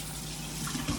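Raw macadamia nuts are washed in a colander under water, producing a brief soft swish and trickle of liquid with faint splashes toward the end.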